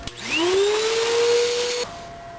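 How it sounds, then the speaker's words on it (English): A vacuum cleaner whirs up to a steady high whine, runs loudly close by cleaning the interior floor of a third-generation Toyota 4Runner, then cuts off near the end. "really do a good clean job in here and vacuum up a lot of stuff"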